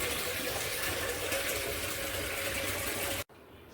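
Water gushes in a steady, close rush while a floor is washed, cutting off abruptly near the end to near silence.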